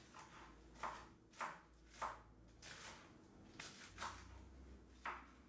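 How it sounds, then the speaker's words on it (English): Beet lettuce being chopped on a board, about eight sharp knife strikes spaced unevenly, moderately near and fairly faint over a low steady background hum. "This is all beet lettuce that we're chopping up here first."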